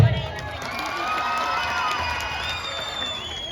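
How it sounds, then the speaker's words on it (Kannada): Audience at a stage comedy and orchestra show cheering and applauding an arriving guest: a continuous, fairly loud crowd roar with whistles and shouts. "ಬರ್ಲಿ ಜೋರ ಚಪ್ಪಾಳೆ"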